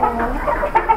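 Chickens cluck in a backyard pet enclosure, a few short, close clucks over about a second against a steady background murmur.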